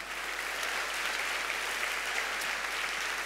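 A church congregation applauds during a sermon, a steady, even wash of clapping that holds at moderate volume for a few seconds without voices.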